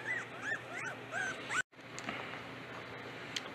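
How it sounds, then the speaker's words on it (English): Several high, thin whimpers and yips from American Heritage puppies come in short bursts over a soft background, then a brief break followed by quieter rustling noise. "All of them are adorable, cute little puppies."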